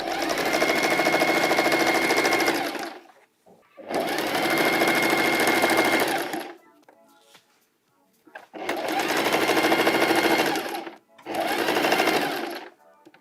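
A sewing machine stitching two pants pieces together runs in four steady motorized bursts with short pauses between them, loud and close with a constant whirring hum. Faint handling noises fill the gaps.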